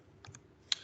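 Computer keyboard typing: a few quick light keystrokes followed by one sharper click, close and isolated in a quiet room.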